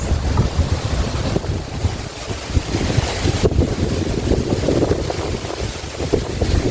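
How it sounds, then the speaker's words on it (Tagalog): Strong wind gusts buffet the microphone at a mountain summit, Mt. Balinsayaw, producing a loud, continuous, rough roar that swells and dips with no voices heard. "Ang sarap ng hangin."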